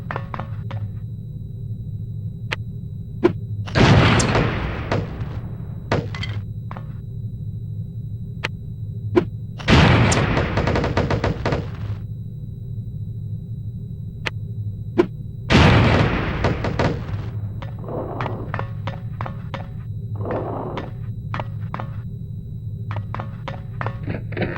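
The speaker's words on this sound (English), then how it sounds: "These relatively inconspicuous-looking lipsticks are actually powerful explosive devices that detonate on impact" Explosions from lipstick bombs in the game No One Lives Forever burst out in three loud blasts spaced several seconds apart, each followed by a rumbling decay, with smaller thumps and knocks in between.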